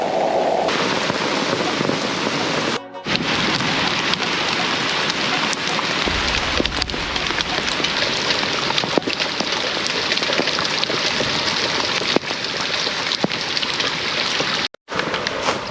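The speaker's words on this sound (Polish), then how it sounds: "Jeszcze deszcz pada" Heavy rain pours down steadily at a wild carp-fishing lakeside in summer. Dense, loud, close hiss and patter continue unbroken, with a few sharper drop impacts and no talking.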